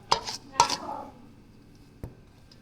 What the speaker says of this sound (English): Mix it all properly, you see it?